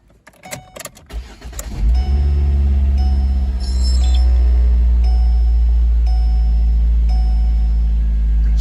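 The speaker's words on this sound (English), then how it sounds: "So we'll just run it for about 10 seconds and then shut it off." Car engine cranking and starting after a synthetic oil change, a brief clatter and key jingle first, then a loud steady idle hum that holds evenly to the end.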